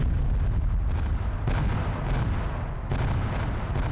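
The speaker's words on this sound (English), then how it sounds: "You're hearing more explosions going off." Repeated heavy explosions in the military video game Arma boom over a dense, loud rumble, with several blasts landing in close succession and no talking.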